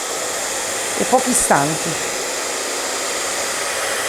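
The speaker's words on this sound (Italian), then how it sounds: "Quindi phon, aria calda" A hair dryer blasts hot air over freshly varnished raw wood, a loud, steady, unbroken whoosh throughout, while a voice talks briefly over it partway through.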